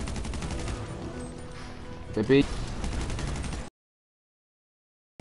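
Gunfire in Battlefield 4 on PS4: rapid, steady bursts of automatic shots over a busy battle din, with a sharper louder crack midway and a brief spoken word, then sudden silence.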